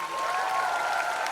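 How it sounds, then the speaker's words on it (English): School students applaud Karan Johar, a short burst of steady, dense clapping from a crowd that holds level throughout without pause. "Huge round of applause for Karan Johar"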